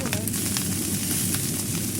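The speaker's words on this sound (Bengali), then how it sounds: "ভাত দিয়ে দেওয়া হলো, অনবরত নাড়তে হয়" Rice being constantly stirred and fried in a pan, a steady crackling sizzle with faint scraping, heard beneath continuous speech.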